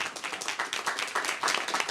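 Applause and scattered clapping from an audience at a neighborhood business campaign launch in the Castro, a moderate, steady patter lasting a couple of seconds with no voices over it.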